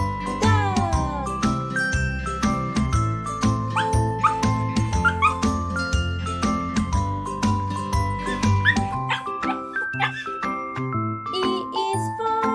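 A cartoon dog barks and yips within a cheerful nursery-rhyme song for children, the barks sounding over bouncy music with jingling bell tones throughout.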